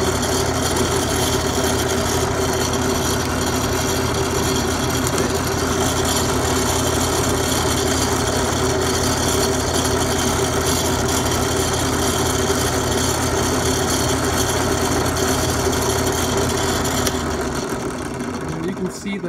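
A continuous loud machining whir as a mill cuts ridges off a piece held in wood, steady and close for most of the stretch before tapering near the end.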